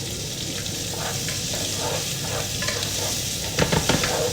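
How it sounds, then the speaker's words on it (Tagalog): Bottle gourd, onion and longaniza sautéing in a pan, a steady close sizzle with repeated stirring scrapes and a brief louder burst of spattering near the end, no talking. "Ayan na, magigisa na ako ng upo."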